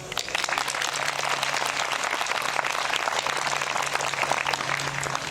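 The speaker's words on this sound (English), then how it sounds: "Let's get some claps for them" An audience at an eighth grade promotion ceremony gives a dense, continuous round of applause for teachers and staff, many hands clapping at once from start to finish.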